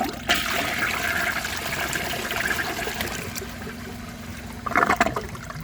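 A 1992 Peerless Hancock front-flush toilet flushes with a loud rushing swirl of water that fades to a trickle, then ends in a short burst of gurgling near the end.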